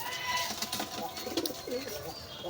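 Male racer pigeon cooing to a female during courtship, soft rolling coos and throaty warbles close by over a hissy background, with faint voices nearby.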